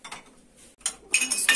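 Glasses clink against each other and the dishwasher rack as they are lifted out of a dishwasher, a few quick light chinks in a short burst, close and alone.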